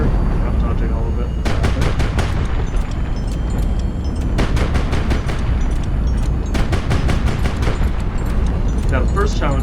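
Dense ship cannon and gunfire from a naval air-fleet battle in the video game Highfleet, with repeated rapid bursts of sharp shots over a constant loud rumble of battle noise, a voice speaking over it.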